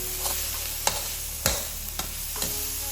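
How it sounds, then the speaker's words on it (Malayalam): Chopped garlic sautéing in a pan for Cantonese chicken, a steady sizzle with a spatula knocking and scraping the pan every half second or so, close and clear. "ഇനി കുറച്ച് ചെറുതായിട്ട് അരിഞ്ഞ ഗാർലിക്കും കൂടി ആഡ് ചെയ്യാം. ആൻഡ് ഒന്ന് നന്നായിട്ടൊന്ന് സോട്ട് ചെയ്യും."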